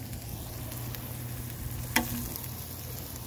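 Hash browns and onions frying on a hot griddle, a steady low sizzle running throughout with one brief sharp clink of a utensil partway through.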